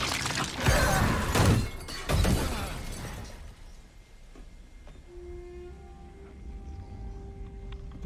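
Glass shatters loudly in the Spider-Man 2 video game, two sharp crashing bursts close together followed by tinkling debris, then a quieter stretch with faint game tones and background hum.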